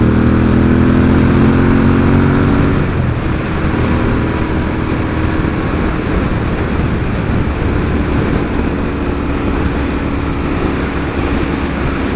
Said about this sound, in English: I like the throaty sound of the motor.